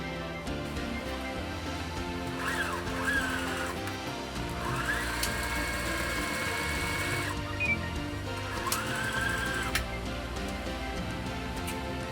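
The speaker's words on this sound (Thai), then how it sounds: "กัดเข็มหมดเสร็จแล้วเราก็จะนำไปเย็บเลยนะคะ" A sewing machine stitches fabric for a Japanese-style knot bag in a continuous, fairly close mechanical whir lasting the whole stretch, with faint squeaks and clicks over it.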